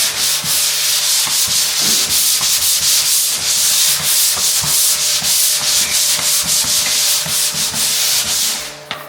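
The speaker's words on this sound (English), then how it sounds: "Always take the sanding sponge and just in circular motions lightly go around until you've got it down." Steady, continuous abrasive scrubbing of a sanding sponge worked in circular motions over dried drywall joint compound, loud and close with no talk, fading at the very end.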